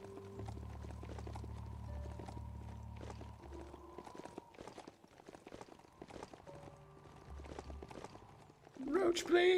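Rhythmic clip-clop of horse hooves running at a quick pace in the video game Last Worldeater, with a low engine-like hum underneath and a brief burst of louder noise at the end.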